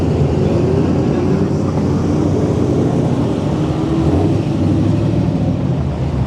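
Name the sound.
drift cars at a drift competition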